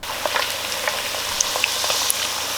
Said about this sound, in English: So feed the horde while I'm frying other stuff.